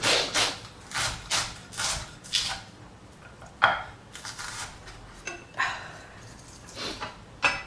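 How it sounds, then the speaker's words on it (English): A knife chops onions on a cutting board in a loose, irregular rhythm of close, crisp knocks, with short pauses between strokes and occasional sharper clicks. "now onions, everything is chopped"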